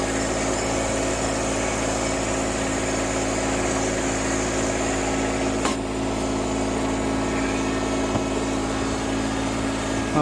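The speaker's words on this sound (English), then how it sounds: "The old tractor needs work." An old tractor, almost 40 years old and running poorly after a throttle adjustment, drones steadily and loudly close by, a constant buzzing engine hum with no pauses.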